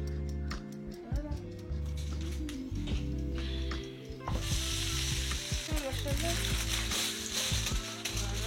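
Rice cooking and sizzling in a pan, a soft steady crackle under a mix of background tones, rhythmic ticking and faint bird calls, with occasional clatter.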